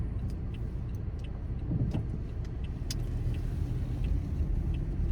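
A car drives through a snowy neighbourhood, a steady low engine and road rumble close by with faint clicks and knocks over it, and no talking.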